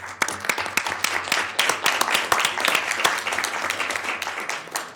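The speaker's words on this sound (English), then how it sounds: "Everyone, round of applause." Applause rises from the audience at a Sacramento city council meeting after supporters of an ordinance stand, as a dense patter of many hands claps steadily for several seconds.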